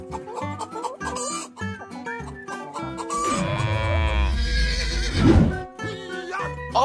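A hen clucks in an animal-park video game amid busy game sounds, with a whinny-like call rising in the middle and dense layered effects throughout.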